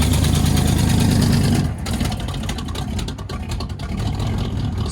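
A Chevy Silverado 5.7L V8 with a cam, long tube headers, true duals, high-flow mufflers and 6-inch tips idles loudly, a deep throbbing rumble that drops slightly after a moment and keeps a choppy, lopey beat up close.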